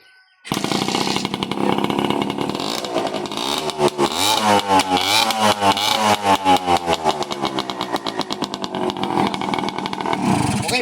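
A 2-stroke Honda XR-style dirt bike motorcycle engine, a smoky x4, kicks to life after a brief silence and runs at a loud, buzzy idle with rising and falling revs, close up and alone.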